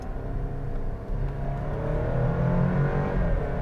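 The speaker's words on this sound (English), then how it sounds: "There is a slight burble from the exhaust when you floor it," A 2023 Alfa Romeo Stelvio Estrema sports SUV accelerates at full throttle, its engine note rising steadily from inside the cabin with a low exhaust burble underneath, no talking.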